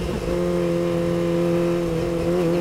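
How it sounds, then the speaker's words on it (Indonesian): Kawasaki ZX-25R motorcycle fitted with an aftermarket exhaust, a steady close engine drone holding a smooth, round tone with a slight rise in revs, no voices. "Mulai digas, karakter suaranya baru mulai keluar nih"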